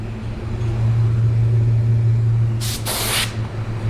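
A car paint spray gun hisses as it sprays two-tone water-based paint, a brief broad burst of about a second over a steady low booth hum.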